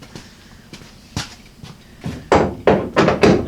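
A ratchet works loose rusty rear seat flip brackets on a Jeep Wrangler YJ, sounding as sharp metallic knocks and clunks that grow louder and more frequent toward the end.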